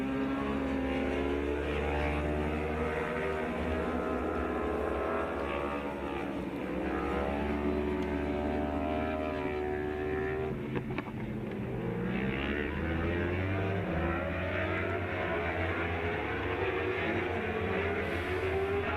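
Suzuki Superstock 1000 race motorcycles on Dunlop tires lapping the Most circuit in the Czech Republic, engines droning loud and continuous with rising and falling tones as bikes pass and shift, under steady commentary.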